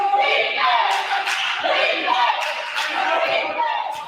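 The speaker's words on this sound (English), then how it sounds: "As the crowd here starting to get into it a little bit." A basketball crowd at a college game swells into a loud, sustained roar of voices and shouts, with scattered thumps from the court underneath.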